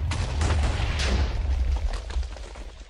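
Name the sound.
TNT missile explosion in Minecraft video game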